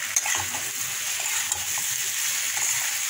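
Hot water hits spiced vegetable masala frying in oil, giving a loud, steady hiss and sizzle with faint stirring scrapes, close and continuous without talk.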